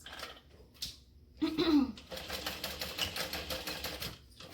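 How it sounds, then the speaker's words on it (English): A sewing machine stitches nylon webbing ends looped through a D-ring for a backpack, running in short close bursts of rapid mechanical stitching with brief pauses between. "I'm going to put it through my D-ring and I'm going to sew the ends."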